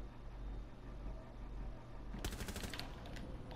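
Shotgun fire in Rainbow Six Siege: a quick burst of sharp shots over a steady low rumble, somewhat distant and faint.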